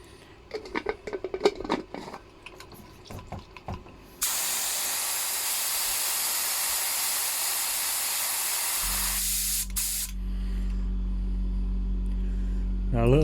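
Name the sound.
spray gun blowing cleaning liquid through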